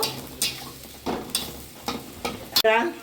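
Ground poppy seed and peanut paste is stirred in hot oil for a ridge gourd mash, with a soft sizzle under several scraping strokes of a spatula against the pan, ending in a louder clatter.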